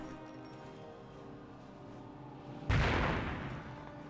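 A mortar fires in the World War II strategy game Company of Heroes, one sudden heavy boom landing after a quiet stretch of low battlefield ambience and rolling away over the following second.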